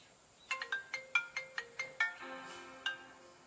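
A phone ringtone plays during a call, a quick series of bright electronic chimes in a melodic pattern, clear and alone against quiet.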